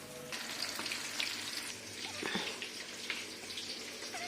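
Kebabs fry in a pan with a soft, low sizzle and some faint bubbling, quiet and distant, with occasional light clinks and no clear talk.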